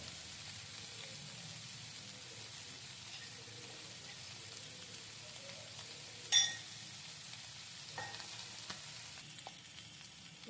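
Chicken chukka frying in ghee for a spicy South Indian stir fry, giving a soft, steady sizzle throughout with one sharp clack of a utensil partway through and a few faint stirring taps afterward.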